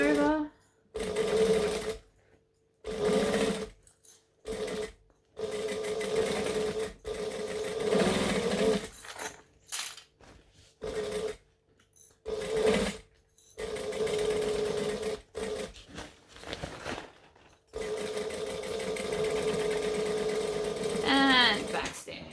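A sewing machine runs in repeated bursts of rapid, buzzing stitching, stopping and restarting with brief pauses, including a short backstitch, loud and close. A voice talks between some of the runs.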